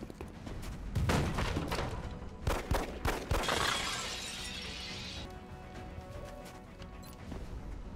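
Flank-shot gunfire in XCOM: a quick cluster of cracking shots mixed with crashing and shattering, then a sustained hiss that fades into quieter background.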